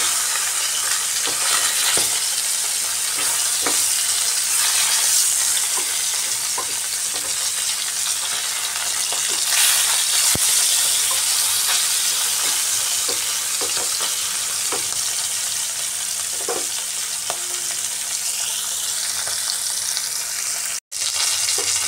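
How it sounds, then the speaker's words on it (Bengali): Fish fries in hot oil in a pan, making a loud, continuous sizzle broken by occasional clicks and scrapes as the pieces are turned. "এভাবে উল্টে পাল্টে একটু কড়া করে ভেজে নিচ্ছি মাছ।"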